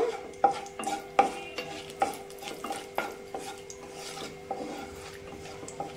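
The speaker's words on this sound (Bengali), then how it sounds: "একটু নাড়াচাড়া করে নেব।" Dry chilli, cinnamon, cardamom and peppercorns are stirred in a hot pan for egg curry, the spoon scraping in regular rasping strokes about every second over a faint sizzle.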